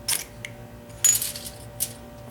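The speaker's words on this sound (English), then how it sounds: "Now I'm going to throw a spark, try to catch some of that magnesium on fire." A magnesium fire starter struck to throw sparks onto magnesium-coated duct tape: three or four short, bright scraping rasps spaced about half a second apart, close and crisp.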